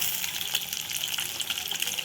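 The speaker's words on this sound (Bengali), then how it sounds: "চলো ডিমটা ভাজা হয়ে যাক।" Eight eggs frying together in a pan, giving a steady, fairly faint crackling sizzle with dense spitting pops that runs evenly throughout.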